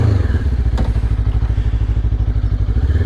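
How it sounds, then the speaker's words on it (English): A Lifan KPT 400cc motorcycle fitted with a new sprocket cruises along, its engine a loud, steady, low pulsing thrum with rapid regular beats, heard up close alone without voices. "This bike just cruises right along."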